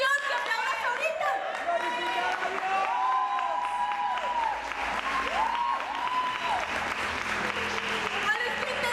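A church congregation applauds loudly and steadily, with shouts, whoops and sung or cried-out voices rising above the clapping throughout, a full, lively crowd close around.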